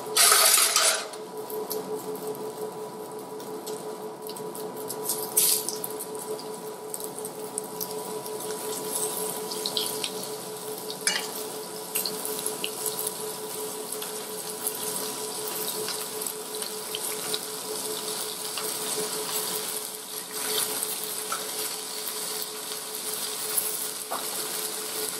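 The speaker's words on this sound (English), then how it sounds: "I'm going to start to very quickly fry the turkey medallions" Turkey medallions fry quickly in oil in a very hot pan, giving a steady, continuous hiss and crackle that is loudest in the first moment, then holds evenly with scattered pops throughout.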